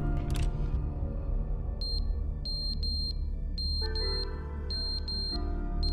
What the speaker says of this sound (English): There's an irritating smoke alarm going off